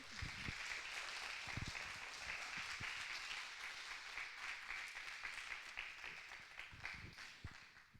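A church congregation applauds together, a dense, steady wash of clapping that lasts throughout at a moderate distance and stays fairly even in loudness.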